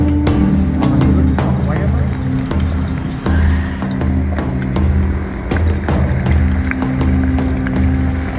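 Papaya pieces frying in hot oil, a loud continuous sizzle with crackling bursts and stirring clatter, close up, with voices talking over it.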